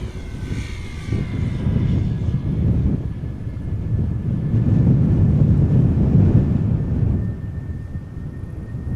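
A Vueling airliner at Amsterdam Schiphol spools up its jet engines on a windy day, a loud low rumbling roar that swells and holds before easing slightly, with wind buffeting the microphone.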